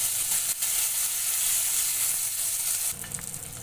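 Whole black peppercorns, green chilli and cumin sizzle steadily in hot oil in a frying pan, a loud, continuous crackling hiss that eases slightly near the end, with occasional stirring and no talk.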